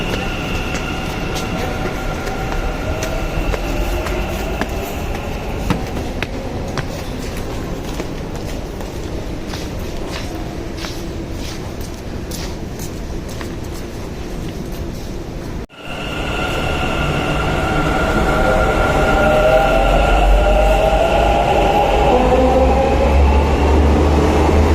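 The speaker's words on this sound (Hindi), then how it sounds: "बाईपरली जाने वाली मेट्रो इस प्लेटफॉर्म में आएगी" At a Bangalore metro station platform, a train gives a steady rumble with scattered clatter, then a swelling roar of rolling wheels and motor whine about two-thirds of the way through.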